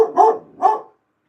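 A guard dog lets out two sharp barks in quick succession, close and fairly loud, with a brief silence after; no one speaks over them.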